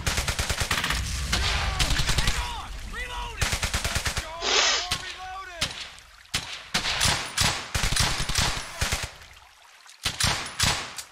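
Rapid bursts of rifle and machine-gun fire in Brothers in Arms: Hell's Highway, a World War II shooter, loud and close, in clustered volleys with pauses, under shouted battlefield voices.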